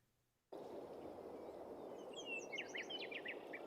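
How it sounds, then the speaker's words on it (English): Little birds chirping in a game audio ambience built in Wwise, a cluster of quick tweets rising over a steady, airy windy bed that starts abruptly after a brief silence. "So we can hear the little birds."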